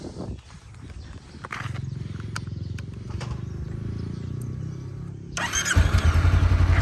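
A 2018 Honda CB500X motorcycle rumbles with a low, steady sound, then its engine turns over and catches near the end into a loud, close idle.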